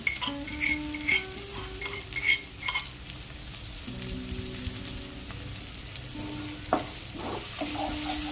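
Garlic sizzles in a hot pan as a large batch of cloves fries, a soft steady crackle under faint clinks of a utensil, with a low musical tone playing intermittently in the background.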